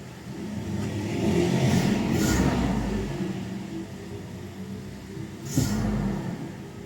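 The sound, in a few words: Toyota Revo VX200 engine running after being started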